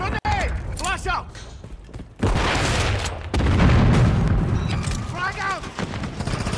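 A grenade or flashbang blast in Call of Duty: Modern Warfare 3, a heavy booming burst followed by a rumbling wash amid scattered gunfire, with game voices calling out around it.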